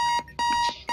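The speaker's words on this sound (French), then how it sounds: "le réveil qui sonne" Alarm clock ringing in the Keep Talking and Nobody Explodes video game: loud, evenly repeating electronic beeps in a fast on-off rhythm, four bursts in about a second, with no talk.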